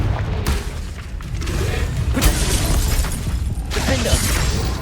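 A Confringo blasting spell goes off in Hogwarts Legacy, a dense roaring burst with booming low thuds and crackling debris that swells and fades over several seconds amid ongoing game noise.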